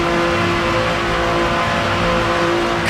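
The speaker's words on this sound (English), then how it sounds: "driving as McQueen with probably the most awesome engine sound you'll ever hear" Lightning McQueen's race car engine in the Cars Race-o-Rama video game, a loud, steady high-pitched whine that holds constant throughout with no talk.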